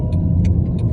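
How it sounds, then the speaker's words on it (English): A car turning around on a hill, its engine a steady low rumble throughout with a few faint ticking clicks over it, close and continuous with no talk. "I'm turning my car because there's a car that is stuck at the top of the hill"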